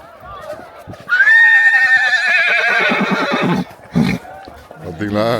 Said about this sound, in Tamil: பார்த்தீங்களா, குதிரை சவுண்டு பார்த்தீங்களா